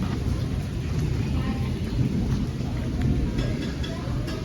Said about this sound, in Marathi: लय पाऊस पडतोय